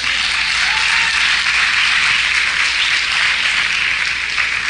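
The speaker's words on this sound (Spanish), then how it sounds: "Denle un aplauso fuerte al Señor." A church congregation at a Spanish-language service applauds loudly and continuously, a dense, steady wash of clapping with no talk over it.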